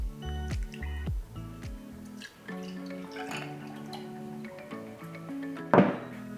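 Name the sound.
pouring peach schnapps over ice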